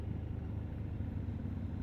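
A Super Meteor motorcycle on the NH48 highway between Pune and Mumbai, with a steady, close engine drone and road rumble that holds evenly throughout without a break.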